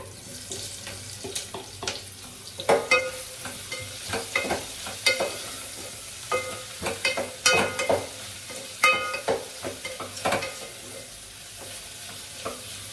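Mushrooms frying in hot oil in a pan, a constant sizzle under irregular stirring knocks and scrapes, with some water-like clatter mixed in.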